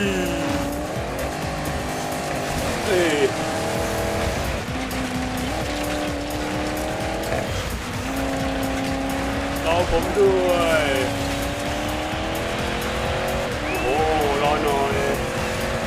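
Off-road racing cars in the Dirt 5 video game, including a Ford Raptor, roar with steady engine drones, rising and falling revs and occasional tire squeals, while a person talks over the game sound.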